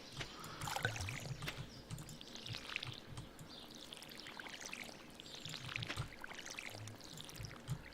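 Watering crops in the Stardew Valley video game gives a steady pouring, splashing water sound that runs continuously with slight swells, heard alone at moderate loudness.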